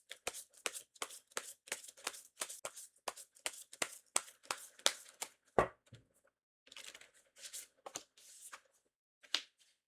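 Oracle cards are shuffled in a fast run of crisp, close riffling bursts, then a sharper snap and a few slower, scattered card sounds as cards are drawn, with no talk.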